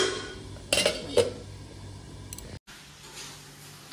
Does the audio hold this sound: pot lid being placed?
yes